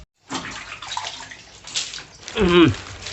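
A tea glass is washed with water in short splashing and sloshing bursts over a few seconds, ending in a louder gurgling pour.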